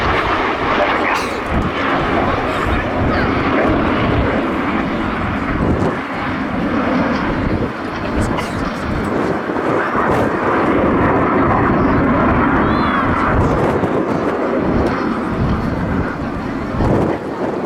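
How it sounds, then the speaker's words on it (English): A Jet Provost Mark 52 jet aircraft flies at an outdoor air show, its loud, sustained engine roar swelling and easing over the whole span while a commentator talks over it. "The only Mark 52 jet prop is still flying today."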